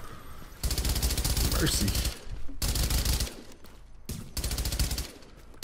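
Gunfire from The Division in a Times Square firefight, loud bursts of automatic fire rattling almost continuously in long stretches with brief pauses, while a player speaks briefly over the shooting.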